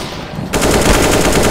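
Automatic gunfire in Counter-Strike, a loud rapid burst of evenly spaced shots that starts abruptly and keeps going steadily to the end, with no voices over it.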